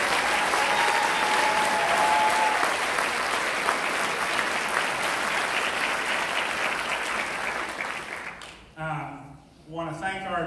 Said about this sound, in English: Let's give all them a round of applause.